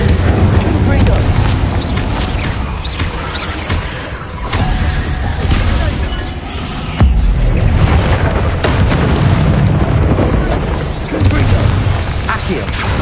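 Repeated fiery spell blasts boom through a Hogwarts Legacy battle, loud and dense with crackling bursts and impacts layered over continuous game noise, with several heavy hits spaced across the span.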